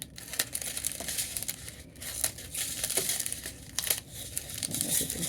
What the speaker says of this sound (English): I'll just cut these apart real quick